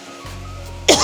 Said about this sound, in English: I done coughed all over that